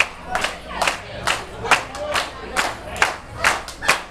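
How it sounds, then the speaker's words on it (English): A crowd claps a steady rhythmic tempo for a jig dance at a St. Patrick's party, sharp hand-clap bursts falling roughly every half second, loud and close with some crowd voices underneath. "we're gonna do a clap for the dance"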